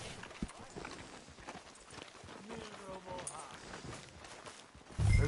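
Hooves clip-clop at a steady walking pace in the Red Dead Redemption 2 video game, fairly faint and continuous, with a louder burst near the end.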